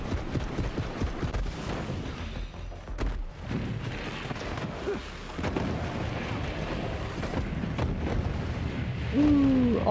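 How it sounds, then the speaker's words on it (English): Explosions in Borderlands 3 gameplay, a dense run of booming blasts and rumbling bursts that keeps going, with a voice partly talking over it. "All the explosions."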